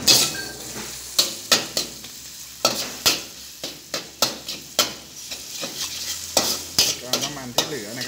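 Garlic stir-fries in leftover oil in a wok for chili-salt crispy pork, a soft steady sizzle broken by repeated loud metal spatula scrapes and clanks against the pan in an irregular rhythm.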